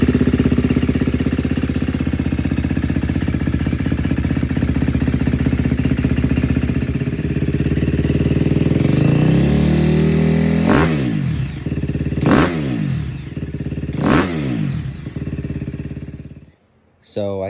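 A KTM motocross dirt bike, with an FMF exhaust, idles with a steady loud engine drone, then is revved in three sharp throttle blips that rise and fall before the engine cuts off abruptly near the end.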